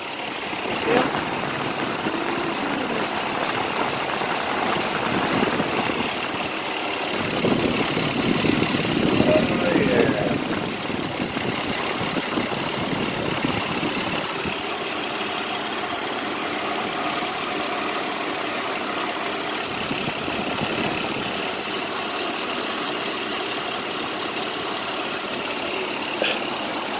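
A Chevrolet Impala engine idles steadily while its cooling fans run, a continuous broadband whir and low hum that swells briefly midway, with people talking nearby.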